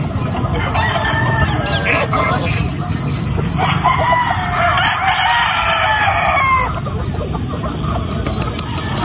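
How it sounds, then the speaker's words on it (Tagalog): A rooster crows loudly nearby over a constant chorus of clucking chickens, with some background noise from the farmyard. "Papakita ko sa inyo yung isa sa mga sample ng manok ni Sir Alfie"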